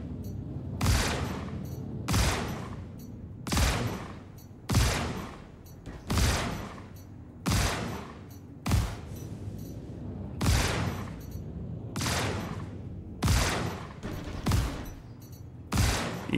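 Spaceship cannons in Star Citizen fire in repeated heavy volleys, about a dozen booming bursts spaced roughly a second and a half apart, loud and sharp over a low steady hum, with no talking.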